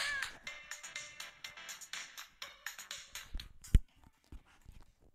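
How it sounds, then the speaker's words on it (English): Funky Miami Nights-style dance music auto-plays from a web page, heard as faint rhythmic synth stabs and beats at low volume with no voices. "it's kind of going with the Miami Nights funky dance-off theme"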